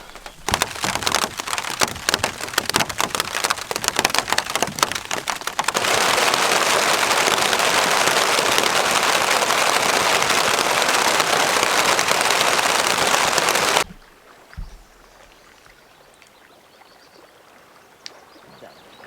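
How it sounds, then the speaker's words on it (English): Heavy rain drums loudly and steadily on a camping tent in the remote Scottish wilderness, a dense roar lasting several seconds before cutting off abruptly, leaving quiet outdoor ambience with faint scattered sounds. "Here's the rain coming"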